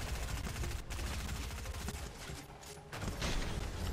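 Gunfire in the Fortnite video game, including sniper rifle shots, crackles densely and loudly throughout with game sound effects and no talking.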